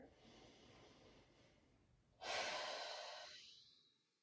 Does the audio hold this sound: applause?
no